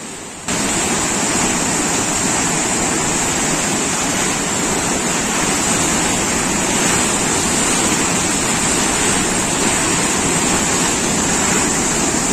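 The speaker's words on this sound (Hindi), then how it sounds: "नहर में जो ऊपर पहाड़ों में बारिश हुई है उसका पानी बहुत ज्यादा है।" Heavy canal water swollen by rain in the hills rushes past in a dense, constant roar, loud and close, with no voices over it.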